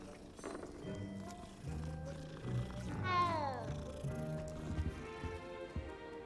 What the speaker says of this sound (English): I think I've petted all the cats in this room